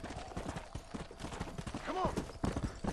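A horse's hooves clip-clop in a steady riding rhythm in the video game Red Dead Redemption, close and continuous, with a brief whinny midway and ambient game sounds underneath.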